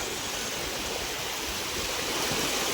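Fast-flowing floodwater rushes past in a loud, dense, unbroken roar, close by and with no talking over it.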